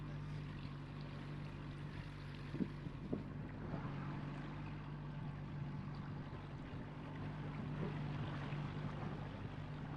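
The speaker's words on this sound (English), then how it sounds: "It's a big boat he's got too." A large motorboat passing on a river drones steadily at a distance, with wind buffeting the microphone and a couple of brief knocks along the way.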